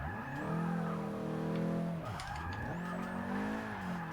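A Nissan 240SX drifting in the video game Forza 6, its engine revving high and falling as the tyres squeal through long skids, loud and close, with a short break before another slide.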